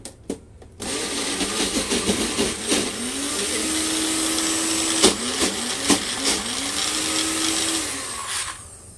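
A blender whirs through thick vegan ranch dressing ingredients, starting after a short click, running steadily with pitch bends as the thick mixture binds and loosens, loud and close, then spinning down near the end.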